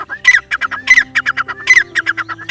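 A Deccani partridge calls up close, loud harsh squawking notes in quick repeated bursts, with no talk.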